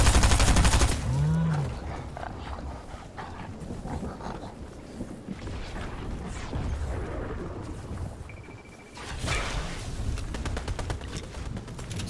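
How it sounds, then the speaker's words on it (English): Gunfire in a Fortnite match during a squad game, with bursts and scattered shots through a busy, noisy mix, a heavier burst near the start and another rise toward the end. "Somebody's firing."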